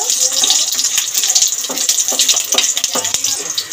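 Panch phoron and whole green chillies fry in hot mustard oil, giving a loud, close, crackling sizzle with rapid spitting pops throughout.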